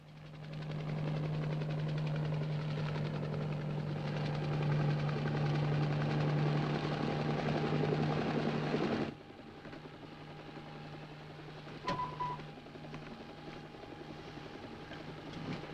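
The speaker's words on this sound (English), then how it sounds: "See if we can get Willis in a helicopter" A helicopter drones steadily with a low rotor hum for several seconds, then fades to a quieter background rumble; no speech.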